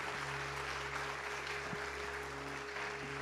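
A church congregation applauds during a sermon, a dense, faint, continuous patter of clapping over a steady low hum from the sound system, with no speech.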